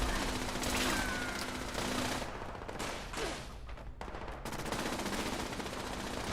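Automated turrets open fire inside a silo in Fallout 76, bursts of rapid gunfire layered over a dense, loud wash of game noise and effects, continuous and busy with no clear pauses.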